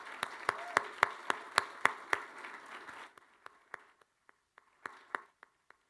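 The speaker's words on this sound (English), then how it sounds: "Let's give her a much-deserved round of applause." Applause at a university press conference naming a new Maryland athletics director, a few seconds of sharp, fairly loud clapping that thins out into scattered single claps.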